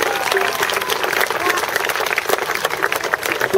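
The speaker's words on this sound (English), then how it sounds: "let's give Manfred a big round of applause" An outdoor bird-show audience applauds Manfred, a bird of prey, with brisk, steady clapping from a gathered crowd filling the whole moment at close range.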